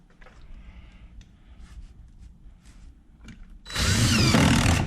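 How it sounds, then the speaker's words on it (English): A power drill drives a screw into roof insulation, starting with a loud, steady whirring burst near the end after quieter handling and rustling noises. It is close and gets loud suddenly. "so yank it out and put it right here and screw it in."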